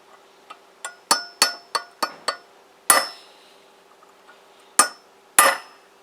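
A chisel struck by a hammer on the steering bearings of a Kawasaki GPZ500S motorcycle, giving sharp metallic clinks in an uneven series of about ten close, loud blows with short pauses between them.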